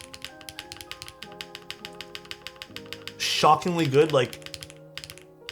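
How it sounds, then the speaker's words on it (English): Fast typing on an Evo75 mechanical keyboard fitted with long pole switches and a PP plate, a steady run of crisp close clicks and clacks, with a voice briefly talking over the keystrokes partway through. "the long pole switch sounds really good with the PP plate"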